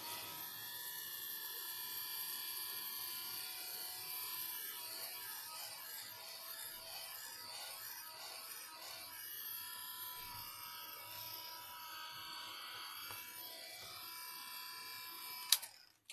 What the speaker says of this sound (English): I'm going to give this a quick blast with the old heat tool